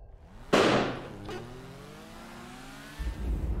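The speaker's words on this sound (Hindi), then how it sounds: "क्या पटाखे फट रहे हैं?" Firecrackers burst in GTA V: one sharp loud bang followed by a fainter crack, then a car engine revs and hums with a falling whine before a low rumble returns.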